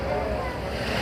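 Passenger launch Doel Pakhi 8 pulling away from the bank, a dense engine drone and rushing water with wind noise, loud and continuous for a moment.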